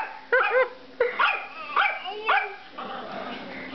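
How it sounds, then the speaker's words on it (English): A dog barks several times in a row, sharp and close, with a few whiny yips trailing off at the end. "What a bark."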